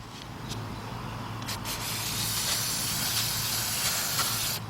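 Carburetor cleaner sprayed into the spark plug well of a 2005 Nissan Pathfinder 4.0, a steady close hiss lasting nearly five seconds with a low hum underneath.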